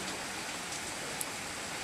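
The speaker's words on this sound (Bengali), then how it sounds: "দারুণ দারুণ বৃষ্টি হচ্ছে" Steady, continuous rain falls in a soft, even hiss on a wet, green day, unbroken and free of voices.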